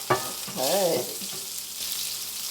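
Steady sizzling of zucchini browning in a pan, a continuous crackling hiss with a brief spoken word near the start.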